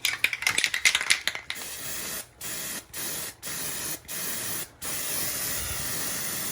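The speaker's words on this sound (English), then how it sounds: "Or it comes in a spray can where you can just spot prime." A spray can of primer spot priming a wall: an initial rattly burst, then several steady, close hissing sprays separated by brief pauses, with a final longer spray.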